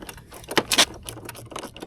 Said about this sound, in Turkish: 10 anahtarla açılıyor bu da.